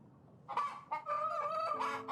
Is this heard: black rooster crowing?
yes